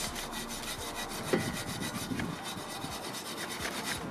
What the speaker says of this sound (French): en prenant le produit, en fait on le fait bien agir entre les lettres un peu partout, on gratte